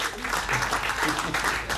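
Meeting attendees at an association's review gathering break into applause, a steady, moderately loud patter of many hands with a voice faintly speaking underneath.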